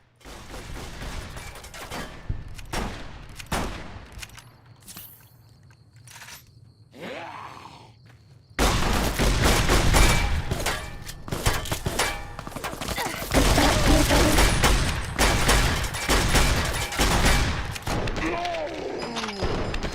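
Shotgun blasts and rapid gunfire in a shooter video game, heavy booming shots repeating in quick bursts, growing louder and denser midway through amid thuds and crunches.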